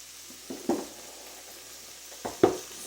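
Leftovers fry in a pan with a steady low sizzle, broken by two short louder bursts of stirring or scraping, close and alone with no talk.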